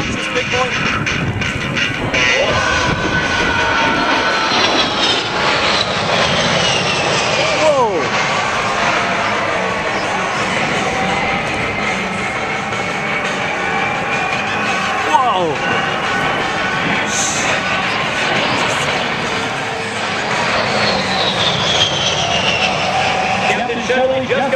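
An A-10 Warthog jet roars overhead at an airshow, a loud sustained engine rumble with rising and falling whine as it passes, heard beneath continuous announcer commentary.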